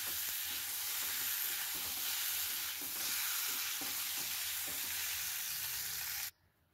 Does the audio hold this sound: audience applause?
no